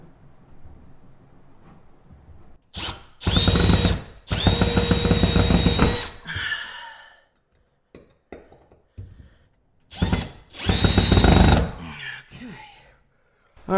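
A power drill drives screws into wall studs in separate bursts of loud, close whirring, each a second or two long, split by quiet gaps with faint handling noise.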